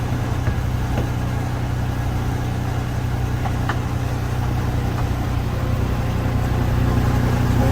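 A 3,000 psi pressure washer with a 360-degree spinning head cleans the inside of garbage, compost and recycling bins, giving off a continuous droning hiss with a steady motor hum underneath and occasional faint clicks.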